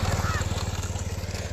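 A motorcycle engine thrums close by in a rapid, steady pulsing beat, with faint voices underneath.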